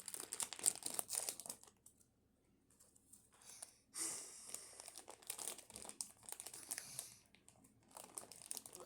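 Labubu toy packaging being torn open and crinkled up close, with irregular bursts of crackling plastic and paper, a quieter pause in the middle, then more rustling, with soft breathing and no talk.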